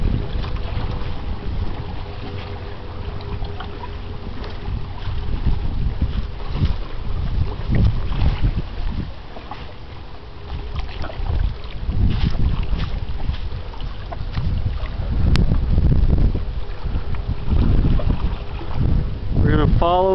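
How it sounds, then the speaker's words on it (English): Freighter Algoma Buffalo sailing down a river, heard as a low, steady rumble heavily masked by gusting wind noise on the microphone throughout, with faint scattered sounds. "Follow the freighter Algoma Buffalo."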